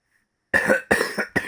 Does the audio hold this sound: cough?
yes